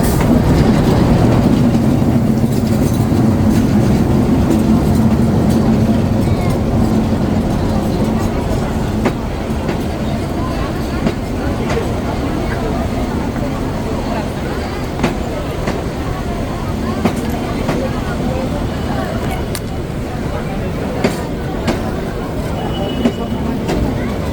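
A train passes on the Kaunia–Parbatipur railway line with a loud, continuous rumble and rhythmic wheel clatter that lasts throughout, while voices talk now and then over it.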